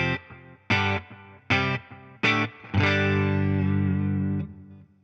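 Electric guitar run through a pedalboard slapback echo preset: four short, sharply picked chord stabs, each trailed by a quick single repeat, then a final chord left ringing for about two seconds, moderately loud with no talk.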